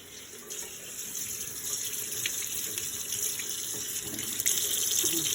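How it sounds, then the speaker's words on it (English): Hands are rinsed under a running kitchen tap, a steady close splashing rush of water that swells slightly and continues throughout without talk. "Let's rinse off my hands."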